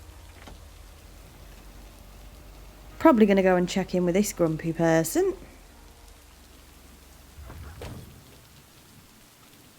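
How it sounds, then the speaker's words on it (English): Steady rain patters softly throughout the small town of Providence Oaks in the video game Lake, and someone speaks briefly partway through. "I actually quite like the ambience of Providence Oaks in the rain"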